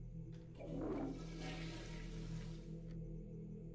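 A toilet flushes in the horror game The Horror Within with a single rushing swirl of water that builds, holds for about two seconds and then cuts off, set over a low steady hum.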